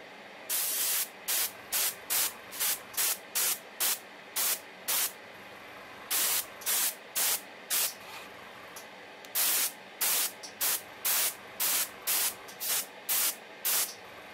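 Repeated short bursts of an airbrush or spray can laying a clear coat of Future floor polish onto a Bandai Yamato 2199 model kit part, each hiss about half a second long, close and steady with brief pauses between.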